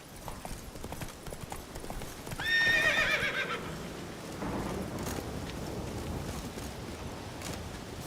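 A horse in The Witcher 3 video game gallops with rapid rhythmic hoofbeats, and a loud whinny rises midway before the clip-clop carries on under wind and ambient game sound.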